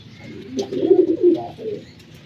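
Snow-white pigeons cooing in a loft, a close, soft, throaty rolling coo that swells and fades over a couple of seconds.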